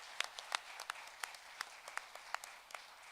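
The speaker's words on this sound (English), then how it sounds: "round of applause for all of our performers" Sparse, scattered hand claps from a small audience greeting performers at a Black heritage art and song event, quiet and somewhat distant, with roughly a dozen separate claps spread over a few seconds rather than a full roar.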